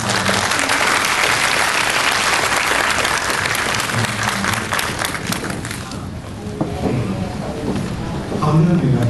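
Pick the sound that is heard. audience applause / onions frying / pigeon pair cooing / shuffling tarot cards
audience applause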